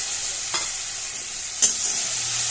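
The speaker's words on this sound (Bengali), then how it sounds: "তো এবার আমি মশলাটা মিশিয়ে দিচ্ছি" Spice paste of mustard, ginger, cumin and dried chilli being stirred into frying fish in a pan, with a steady sizzle broken by two sharp scraping strokes of the spoon, close and with no voices.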